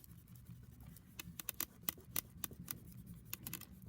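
Soft rubbing and scratchy brushing against paper as graphite in a pencil sketch is smudged, an irregular series of close, quiet swipes with a few sharper strokes, heard alone without talk.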